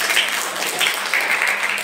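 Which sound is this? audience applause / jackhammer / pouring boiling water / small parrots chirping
audience applause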